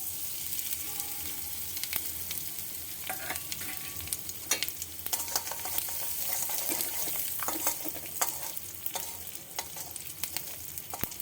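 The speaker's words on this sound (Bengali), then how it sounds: "ফোড়নটা ভাজা হয়ে গেছে" Bengali five-spice seeds fry in hot mustard oil in a kadai, sizzling steadily up close with scattered sharp crackles and spatula scrapes over a constant hiss, no talking.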